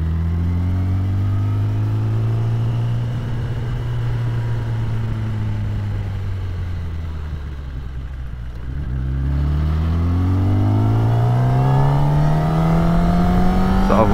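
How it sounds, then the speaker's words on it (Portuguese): A Kawasaki ZX10R sport motorcycle on a ride with its stock exhaust, engine note steadily rising and falling through gears, dipping quieter in the middle before revving up again, close and continuous with no talk. "Andar na moto com escape original"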